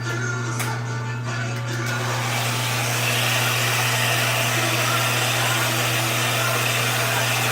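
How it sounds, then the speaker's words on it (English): A blow dryer drying hair on wash day runs as a loud, steady whirring hum from start to finish, with no talking. "let me know if the blow dryer is going to be too loud."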